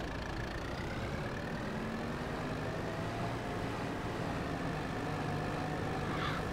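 A Kubota tractor driving in Farming Simulator, a steady engine drone with a faintly rising pitch that holds without pause throughout, alone and fairly quiet.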